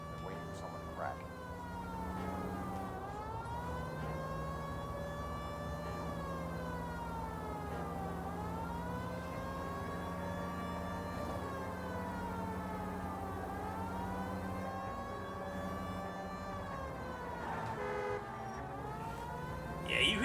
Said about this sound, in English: Yeah, you hear the siren.